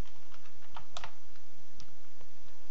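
A few quick keystrokes on a computer keyboard entering a number, a short burst of crisp clicks up close, then a lone later tap, in an otherwise quiet room.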